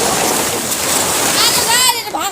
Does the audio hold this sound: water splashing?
yes